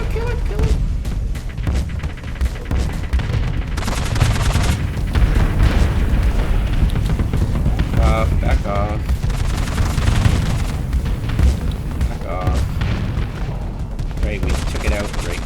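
Torpedo explosions in the space combat game Starsector, loud booms and rattling bursts of weapon fire going on continuously, with short synthetic alarm-like tones now and then, dense and close throughout.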